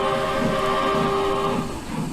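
Steam train in the Trainz 22 simulator running with a continuous heavy rumble and a sustained whistle tone, loud and steady throughout, with no talking.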